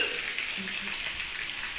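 Vegetables fry gently in oil, a soft, even crackling hiss heard up close with no other sounds.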